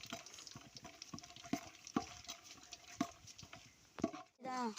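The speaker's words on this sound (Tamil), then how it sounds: "எண்ணெயில் பொரிஞ்சிக்கிட்டு இருக்கு மக்களே." Whole spices such as cinnamon and fennel frying in hot oil in a pot for chicken biryani, with repeated rhythmic stirring clicks over a soft sizzle and a brief voice near the end.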